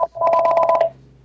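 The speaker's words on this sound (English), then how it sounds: "I think your phone is ringing." A telephone rings with a loud electronic trill of rapid tone pulses, close by, lasting under a second before cutting off to quiet.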